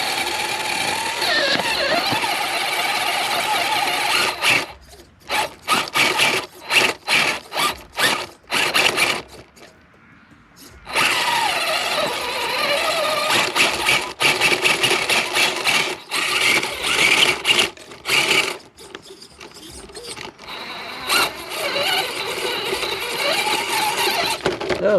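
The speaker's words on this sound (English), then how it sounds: "So the back diff is going to scrape its way up here where the TRX4 cleared it." A radio-controlled crawler, a custom C2 comp rig, grinds up a rock face with its rear differential scraping on stone, giving bursts of whirring, clicking gear and motor noise broken by short pauses, close and loud with no talk.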